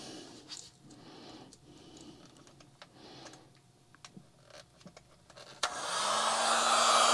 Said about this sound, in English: So we got the heat gun now. And we're going to turn it on.